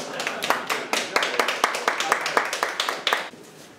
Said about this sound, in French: Normalement, vous applaudissez, non?